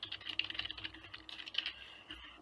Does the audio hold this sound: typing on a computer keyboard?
yes